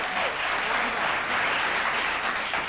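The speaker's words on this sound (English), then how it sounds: "The crowd goes crazy for it." Studio audience applause on a late-night talk show, a dense, steady wash of clapping that holds at full strength throughout, with no voices standing out above it.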